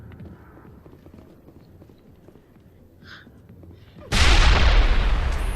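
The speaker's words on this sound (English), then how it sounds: "Oh shit, I threw a grenade." A grenade blows up in the Mass Effect video game, a sudden loud blast that cuts through quiet, faint footstep-like tapping and then rolls on as a heavy, sustained roar to the end.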